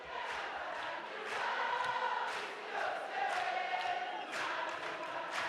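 A crowd cheers and claps during a parliament session, a steady roar of voices and applause with rising shouts, moderately loud and somewhat distant.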